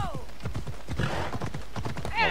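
Rhythmic horse hoofbeats from the video game Assassin's Creed Odyssey clatter quickly under a voice talking, with a brief high whinny-like sound near the end.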